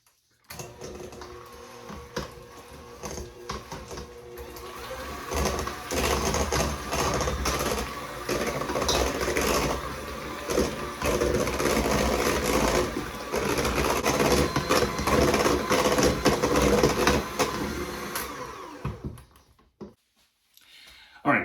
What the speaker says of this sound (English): I'm going to take and mix it on high until it's nice and fluffy